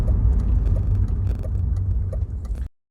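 BMW Z3 3.0i roadster driving over a bumpy road in New Zealand, with a loud steady engine and road rumble and repeated thumps and rattles from the bouncy ride, continuous until the sound cuts off abruptly near the end.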